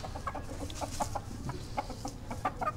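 A hen clucks repeatedly in short, irregular bursts, close by, among other chicken sounds in a farmyard, with no talking.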